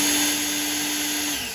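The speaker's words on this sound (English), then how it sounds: "And now I can drill a small hole in the firewall." Power drill boring a small hole through a car's firewall, a steady loud whine with a constant pitch that holds for over a second and then starts to wind down.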